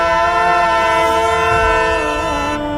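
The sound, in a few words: train horn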